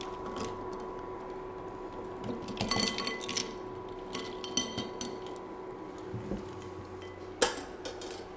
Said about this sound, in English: the eggs can go straight into the ice water.